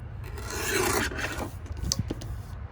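Cardstock divider being cut along its bottom edge, a continuous close rasping, scraping stroke for about a second and a half, then lighter scratchy movements and small taps, with no talking.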